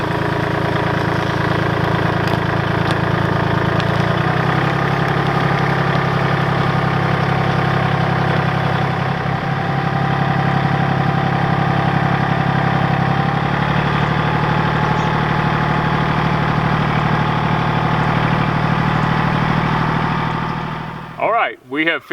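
A farm tractor idles steadily, a continuous mid-pitched engine drone holding for about twenty seconds with a slight shift partway, close and loud, cutting out at the end.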